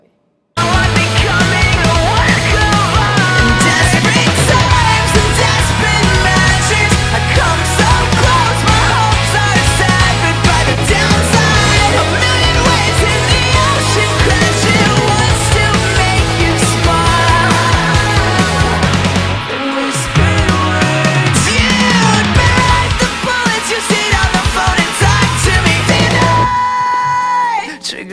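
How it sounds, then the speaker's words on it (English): Loud, dense rock music with pounding drums, heavy bass and distorted guitar, topped by shouted, screaming vocals, playing continuously before dropping off near the end. "what you just heard is an example of something that you would kind of hear at a rock concert"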